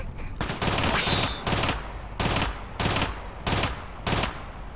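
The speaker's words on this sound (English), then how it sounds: "God, I love auto pistols." Rapid bursts of automatic pistol fire in the video game Tom Clancy's Ghost Recon Advanced Warfighter, about six loud, evenly spaced volleys over a steady background.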